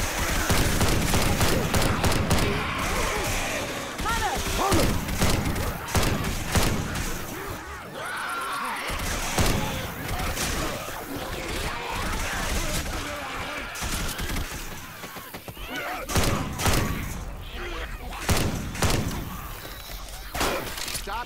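Dense, sustained gunfire as players shoot the Tank at a burger-stand barricade in the video game Left 4 Dead 2, rapid shots mixed with thuds, slams and crashes throughout, loud and continuous, with occasional voices underneath.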